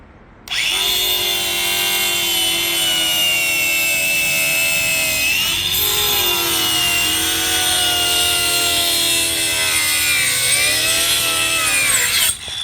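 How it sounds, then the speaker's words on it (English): A cut-off wheel on a power tool cutting a line into plywood, giving a loud, steady high-pitched whine with grinding abrasion that dips in pitch twice as the blade loads, close up and with no voices. "Cut a piece of that ply. Just put a little line in that plywood."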